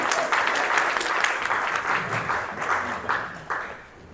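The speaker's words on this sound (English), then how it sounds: "let's give Vinny a great round of applause" Audience applause at a local history talk in a Peace Memorial centennial celebration series, a steady dense clapping from a seated crowd that holds fairly loud throughout and thins slightly toward the end.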